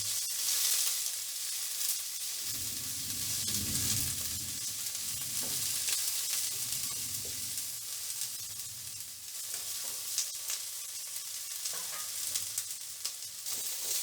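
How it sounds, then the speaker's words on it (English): Vegetables for Schezwan fried rice frying hard over high heat, a steady loud sizzle running throughout with bursts of scraping and tossing from stirring. "I'm making sure it is being fried at the high heat."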